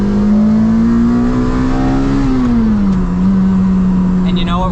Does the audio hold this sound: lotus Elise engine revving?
yes